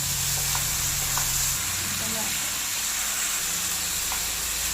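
Sliced green chillies drop into a hot frying pan while fried chicken biryani is being cooked, giving a loud, continuous hissing sizzle with faint stirring clinks underneath.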